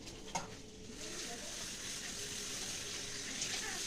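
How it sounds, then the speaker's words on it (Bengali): Cut prawns are rinsed in water with a steady splashing and sloshing, close and continuous, with one brief clink at the start and no voices. "এবার ধুয়ে নেব।"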